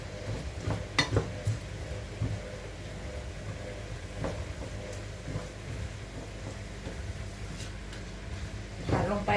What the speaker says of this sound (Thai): เราก็ผัด ผัด ผัดเนี่ยนะคะ